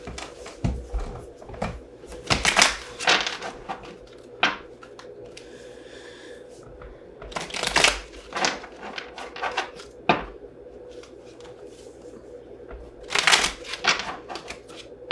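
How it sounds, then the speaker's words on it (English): Playing cards being shuffled in several quick riffling bursts, with soft taps and rustles between them. "One more shuffle."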